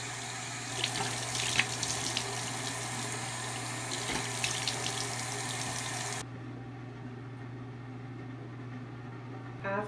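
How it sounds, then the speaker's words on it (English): Tap water runs steadily from a bathroom sink faucet during face washing with cold water, a close, constant hiss and splash that stops abruptly partway through, leaving a faint hum. "now I'm gonna wash my face"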